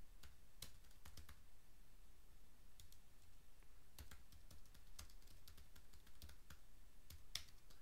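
Someone types steadily on a computer keyboard, light clicking keystrokes in quick, irregular bursts, faint and close in a quiet room.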